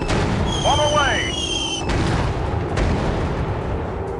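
In a flight video game, a dropped bomb explodes with deep booming thuds under whistling synthetic tones and game voice chatter, the blasts heavy and close.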